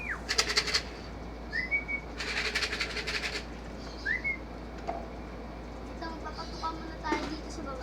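Soft coos of young pigeons and short whistled calls come and go over a low steady hum, with bursts of bright rustling noise between them.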